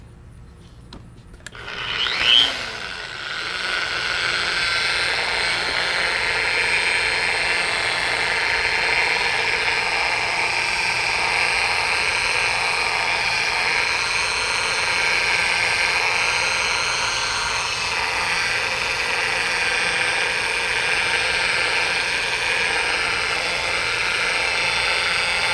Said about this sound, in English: I'm going to go over it with a 3000 grit, get that fine down a little bit better